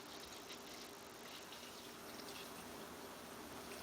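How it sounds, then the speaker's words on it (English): Water pours steadily into a bucket while making mead, a continuous faint gushing wash that stays even throughout with no talk. "We're going to add in the other ½ gallon of water to that."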